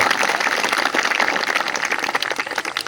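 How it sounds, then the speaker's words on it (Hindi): An audience claps in appreciation at a public gathering, producing a continuous crackle of many hands. It is fairly loud and steady, with slight swells, and no clear speech rises above it. "तालियां बजाओ"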